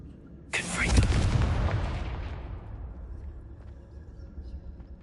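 A Confringo blasting spell in Hogwarts Legacy fires a sudden loud explosive boom with a deep rumbling tail that decays over a couple of seconds, a voice speaking briefly around it.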